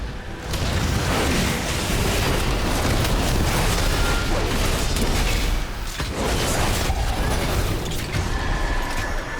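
Random boss explosions in a World of Warcraft solo delve go off as loud, dense bursts and rumbling blasts that run continuously, with a brief dip near the six-second mark and no talk.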